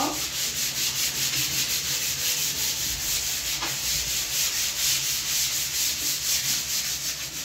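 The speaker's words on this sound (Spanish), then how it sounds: "vamos a lijar suavecito" Steady, continuous hand sanding of wood filler on a resin table, a dry scratchy rubbing that keeps an even back-and-forth rhythm throughout, close and fairly loud, with no talking.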